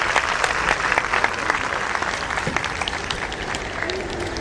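An audience at a function claps for a children's tableau performance, dense sustained applause from a crowd, fairly loud and steady, with some voices mixed in.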